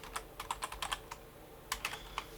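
A computer keyboard clicks as a folder name is typed, with a quick run of soft, close keystrokes, a short pause, then a few more taps, with no talk.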